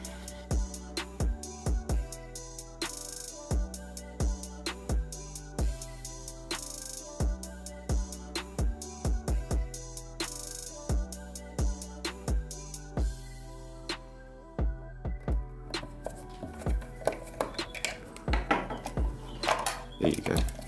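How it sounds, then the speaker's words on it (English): A normal Phillips head screwdriver takes the screws out of a fake NES Classic console, giving a rapid series of sharp metallic clicks and clinks that continue throughout. "I've just got a normal sort of Phillips head screwdriver, and I'm just going to take all of the screws out"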